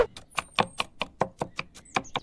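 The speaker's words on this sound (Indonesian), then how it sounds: "Nah, udah selesai nih kita motong bumbu nih." Spices chopped with a knife on a cutting board for fried fish, about a dozen quick, evenly spaced close knocks of the blade.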